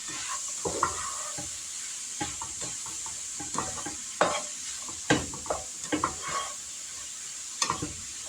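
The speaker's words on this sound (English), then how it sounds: "we're just going to let this saute for a little bit" Chili ingredients sautéing in a pot under a constant low sizzle. A spoon scrapes and knocks against the pot in irregular bursts.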